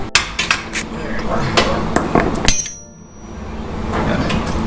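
A hammer taps out a steering rack bolt on a Dodge Dakota R/T during a front lowering spring install, giving several sharp metallic clanks in quick succession close by, followed by a duller low rumble.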